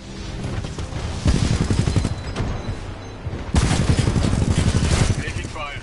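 Gunfire from the Titanfall 2 video game comes in heavy rapid bursts, with louder volleys surging near the middle and end, mixed with game voices.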